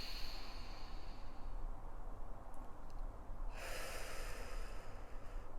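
Slow, deep breathing through the nose, a steady airy rush with a fuller inhale swelling partway through, close and alone without talk.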